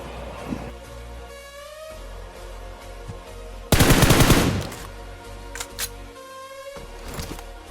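Gunfire in the mobile battle royale game PUBG Mobile, with scattered single shots and one loud burst of rapid automatic fire in the middle, followed by a few sharp cracks, set against game ambience.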